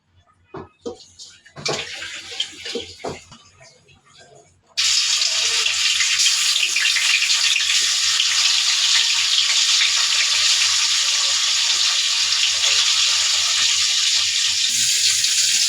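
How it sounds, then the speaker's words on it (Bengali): Poa fish coated in turmeric and salt drop into hot mustard oil in a pan, starting with a few faint clinks and taps before a loud, steady sizzle and hiss takes over and continues unbroken. "আমি মাছগুলি হলুদ লবণ মাখিয়ে আগে একটু ভেজে নেব, তারপরে ভুনা করবো।"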